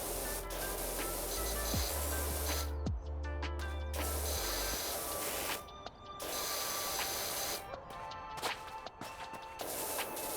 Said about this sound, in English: I love how the water sound actually changes depending on the material you're spraying.